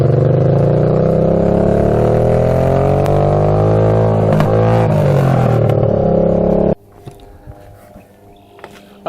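Honda 500cc-swapped tractor launching hard with the clutch dropped in second gear, engine roaring loud and close with a rising harmonic pitch for about seven seconds before cutting off abruptly to near silence.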